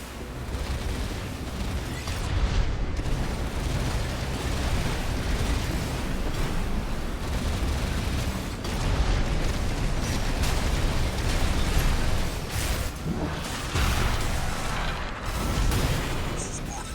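In the video game Armored Core 6, a mech is destroyed during a dam complex battle, with dense, continuous loud explosions, booms and bursts rumbling throughout.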